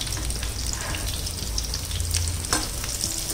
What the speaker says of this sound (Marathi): आता ही अगदी छान गोल्डन ब्राऊन होईपर्यंत फ्राय करायची आहे।